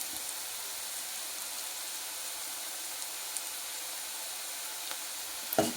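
Bitter gourd fries in a pan with salt, chilli powder and turmeric, giving a steady, fairly quiet sizzling hiss throughout, with a brief clatter at the end.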